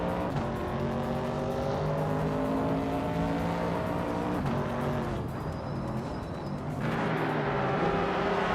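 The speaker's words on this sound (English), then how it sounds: "GamerBoss 72 is driving a 1967 Simca Rally 2" A 1967 Simca Rally 2 race car engine in a racing video game, a steady droning hum of engines running continuously with faint shifts in pitch, held at a constant loud level throughout.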